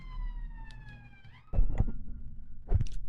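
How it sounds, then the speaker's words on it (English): A police siren wails with steady falling tones at moderate distance outside, then fades as nearby thumps and clatter take over. "Sorry about the sirens."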